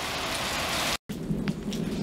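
Steady rain pours outdoors with a low rumble of thunder underneath, cut by a brief dropout before the downpour resumes.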